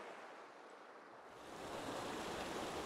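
A babbling mossy creek in the woods rushes steadily, its broad watery wash swelling louder about halfway through, with no voices.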